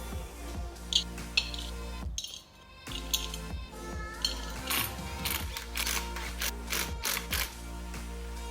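Metal parts clink and tap as a sprocket is fitted onto a Bafang 1500w mid-drive motor on a Scott Spark mountain bike, with scattered light knocks and a brief quiet gap, no talking.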